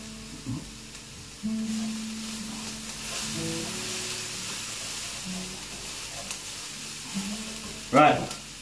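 Beef stroganoff ingredients browning in a pan, a steady, moderate sizzle running throughout with faint background murmuring, a few soft clinks and a brief louder clatter near the end.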